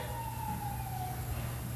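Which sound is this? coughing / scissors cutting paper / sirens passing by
sirens passing by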